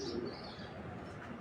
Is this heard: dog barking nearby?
no